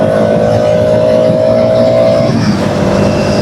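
Loud, continuous engine roar of a group of motorbikes, including a KTM 250, riding close by on the Mumbai-Pune road, a steady droning hum that shifts in pitch as they pass, with wind noise.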